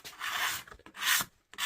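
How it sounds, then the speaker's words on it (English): A card scraper drawn across a traditional leather insert on a pre-1900 golf club gives dry rasping scrapes, two long strokes with a short pause between, close and alone. "let's see if a card scraper works"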